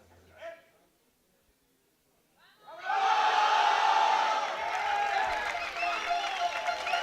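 A large arena crowd at a European powerlifting championship erupts into loud, sustained cheering and shouting for a lifter, with voices rising together and holding at full volume after a quiet moment.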